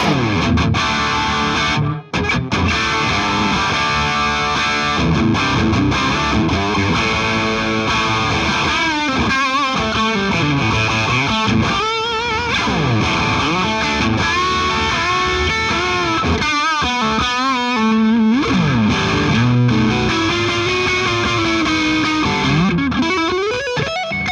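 An electric guitar with P90 and humbucker pickups through a Bad Cat Hot Cat 15R amp with heavy overdrive, gritty and loud, with sustained bent notes and chugging riffs ringing continuously for over twenty seconds.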